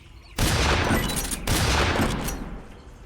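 Gunfire in the Metal Gear Solid 3 video game aimed at fruit: two loud, dense bursts of rapid shots, the first lasting about a second and the second trailing off over the next second or so.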